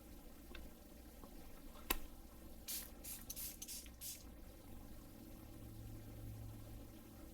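A few quick hissing bursts from a spray bottle of lens cleaner onto VR headset lenses, close by in a quiet room, preceded by a single light click.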